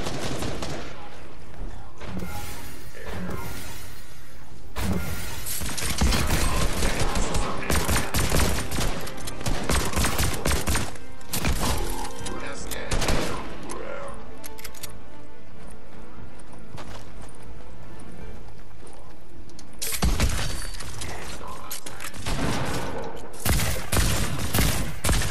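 Rapid gunfire in a Marvel video game, loud dense bursts and sustained automatic volleys filling most of the stretch with short gaps, a voice occasionally talking underneath.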